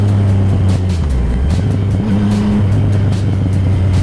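A Yamaha MT-09 motorcycle ridden on a race track, its engine a steady close low drone with short shifts in pitch as the rider changes speed, and no voices over it.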